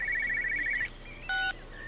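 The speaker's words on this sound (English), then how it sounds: "Somebody answer the phone." A telephone rings in the video game Everybody's Gone to the Rapture, giving a steady trilling ring for just under a second, then a short electronic beep tone a moment later, both fairly loud and close.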